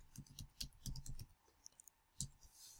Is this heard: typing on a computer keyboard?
yes